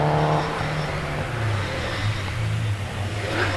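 A Citroen Saxo VTS rally car climbs the Prescott hillclimb, its engine revving and pulling hard, a raspy rising note that dips and builds again, fairly close and alone.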